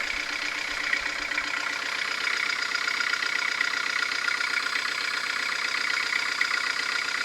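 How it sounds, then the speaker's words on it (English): A Beta 43 narrowboat diesel engine idles steadily after a service, a close, continuous knocking chug with a fast, even rhythm and no talking. "start the engine and let it run so I can check for any oil leakage"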